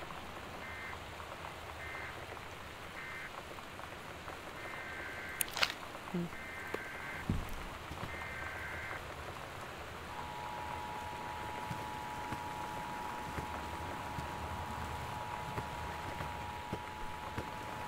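Steady heavy storm rain hisses throughout a rural night scene in the video game Gone Home, with a few brief beeps and thumps early on and a faint sustained tone later.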